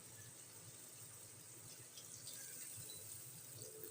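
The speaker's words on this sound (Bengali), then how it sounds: "দেখো আমি জল দিয়ে দিলাম পরিমাণ মতো" Water from a tap runs steadily into a cooking pot while preparing a Bengali katla fish head curry, a continuous close splashing fill with no voices.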